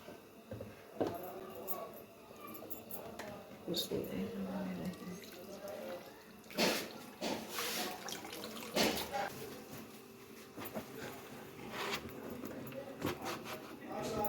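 Cold water splashes over boiled potatoes held in a cloth in a home kitchen, irregular pouring and dripping bursts with sharp splashes, close and moderately loud, while a person talks intermittently.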